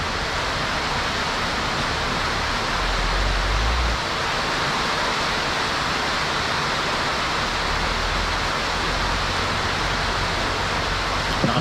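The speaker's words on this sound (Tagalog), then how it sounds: "Grabe yung ulan na yan, ang lakas, grabe." Heavy rain pours down steadily during a storm in a rural farm setting, a dense, loud, continuous hiss of broadband wash with a low rumble, close and unbroken throughout.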